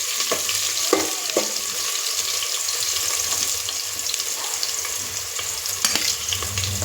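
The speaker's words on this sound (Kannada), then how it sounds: "ಕಾದಿರುವ ಎಣ್ಣೆಗೆ ಹೆಚ್ಚಿದ ಈರುಳ್ಳಿ ಹಾಕಿದ್ದೀವಿ." Chopped onion dropped into hot oil for veg biryani, a continuous bright sizzle and crackle close up, broken by a few clinks and scrapes of stirring.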